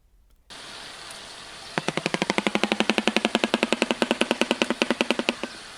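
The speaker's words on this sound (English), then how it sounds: "clattering of their bill together, like a hollow clapping sound." A shoebill clatters its bill, a rapid, hollow clattering like fast wooden clapping running steadily for several seconds over a background hiss, loud and close.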